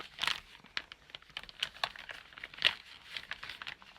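A paint-by-numbers kit package being opened by hand: bursts of crinkling and tearing plastic wrap, close and fairly quiet, in irregular short rustles with one sharper rip near the middle.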